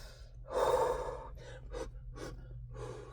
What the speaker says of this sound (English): I'm blowing my breath in the air.